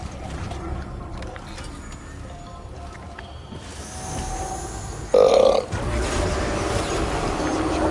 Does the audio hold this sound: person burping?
yes